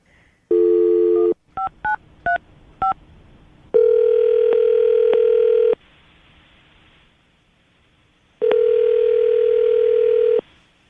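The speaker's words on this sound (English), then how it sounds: "I'm about to dial the phone number right now, get him on the phone" A telephone handset plays a short tone, then a quick series of touch-tone dialing beeps, followed by two long ringback tones separated by a pause, all clear and close with no talking.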